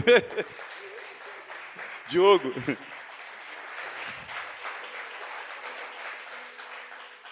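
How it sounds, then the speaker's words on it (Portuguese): A church congregation applauds during a sermon. A brief spoken word comes first, then the steady clapping carries on at moderate level to the end. "Uma salva de palmas para o Diego."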